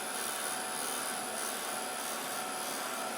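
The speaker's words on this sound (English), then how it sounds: "the trick is to keep your heat gun moving all the time" A heat gun runs steadily over pink vellum for heat embossing flowers on a card, giving a continuous loud, even blowing hiss close by with no breaks and no talk.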